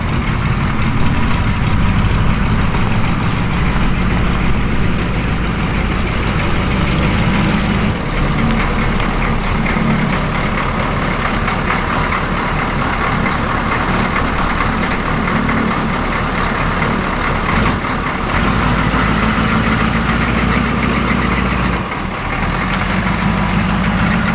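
A military square-body Chevy truck engine idles steadily and loud, a continuous low rumble that holds for about twenty-four seconds with no talking.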